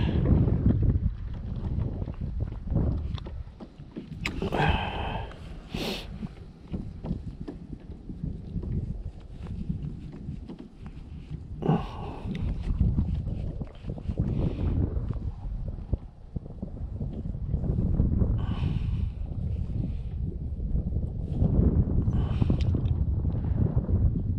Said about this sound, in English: It's windy, cold.